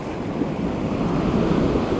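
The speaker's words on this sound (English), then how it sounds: "how complex these waves are" Ocean surf crashes in a continuous loud roar on Montara State Beach in Half Moon Bay ahead of a coming storm, with heavy wind buffeting the microphone throughout.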